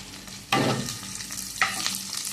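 Onion with coriander powder, homemade chilli powder and turmeric fries in a pan, a close steady sizzle with two louder bursts of hissing as the mixture is stirred.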